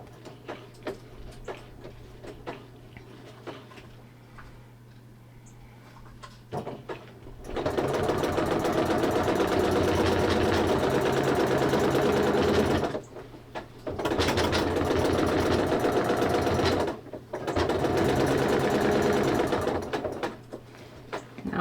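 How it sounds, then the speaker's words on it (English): A sewing machine stitches a quilt, with quiet handling and ticks at first, then long steady runs of fast, even mechanical whirring broken by short pauses, loud and close with no talk. "I'm going to start with a lock stitch right down here in the corner."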